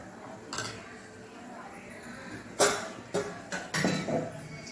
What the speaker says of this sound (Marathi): मिक्सर धुवून याच्यामध्ये पाणी घालायचं